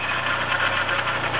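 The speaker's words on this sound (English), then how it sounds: "What you're hearing right now is a shot starter." A failing starter on a 1989 VW Golf engine grinds and whirs steadily in a rough, rapidly pulsing drone for just over a second, close and loud with no pause.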